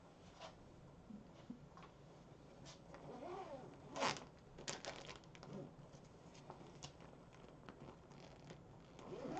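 A zipper with blue-purple yarn caught in it is worked back and forth in a craft studio: quiet, uneven rasping zips and ticks in short bursts, with a few louder pulls, close to the microphone and with no talking.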